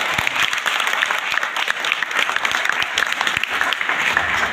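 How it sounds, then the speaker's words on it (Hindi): Dense, continuous applause from a large audience at a company recognition event, many hands clapping steadily and fairly close throughout without any talking. "मैं चाहूंगा इस कंपनी के लिए अब तक की जोरदार तालियां हो"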